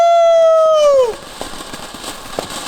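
Fireworks going off outdoors at night: a loud rising whistle that drops away, followed by scattered faint crackling pops continuing to the end.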